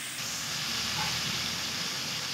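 Squid fries in hot cooking oil, a steady dense sizzle and hiss that runs unbroken and fairly loud throughout, with no talk over it.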